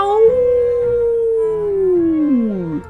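A single long wolf howl with a few voiced harmonics holds steady and then slides downward, rising clearly and alone as a sound effect in a spooky read-aloud camping story.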